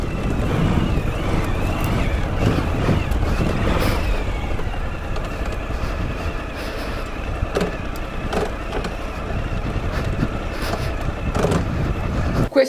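Suzuki V-Strom adventure motorcycle climbing a steep stepped hillside, its engine labouring steadily under heavy wind buffeting on the microphone, with occasional bumps and jolts as the bike lurches over the steps.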